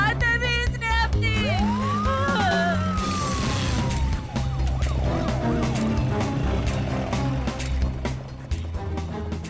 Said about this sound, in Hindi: तुमने दो एम्बुलेंस को फोन किया था क्या?